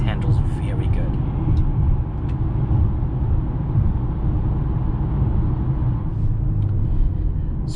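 A 2021 Mercedes-Benz GLA 35 SUV with an 8-speed dual-clutch transmission drives along, heard from inside the cabin as a steady, unbroken low engine and road rumble at moderate level.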